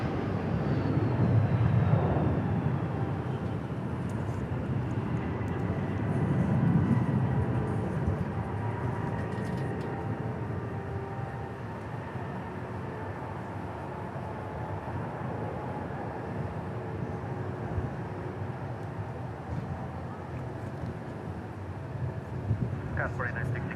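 A departing airliner at DFW Airport gives a steady, broad low roar that swells early and holds for the whole stretch, with a faint whine above it and radio voices speaking over it.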